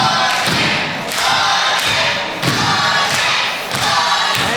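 A wrestler slams onto the mat from an Island Driver at an MWF wrestling show in Mornington: several loud, heavy thuds recur in a rough rhythm over a roaring crowd.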